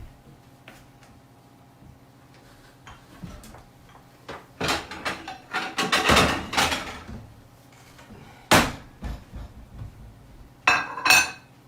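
Plates and dishes clatter and clink in a home kitchen while a meal of mushroom sandwich and coleslaw is being plated, a few sharp knocks and scrapes in short bursts against a quiet room.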